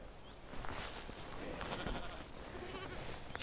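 Sheep bleating out on open hillside country, a few calls over windy outdoor noise, moderately near, with no talking.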